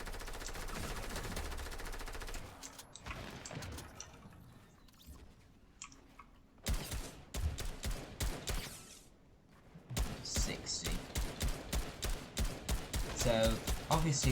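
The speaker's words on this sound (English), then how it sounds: "Who's shooting at me?" Rapid bursts of gunfire in Fortnite Battle Royale, crisp staccato shots firing in quick rhythmic volleys separated by short quiet gaps, close and loud, with a voice speaking briefly amid the shooting.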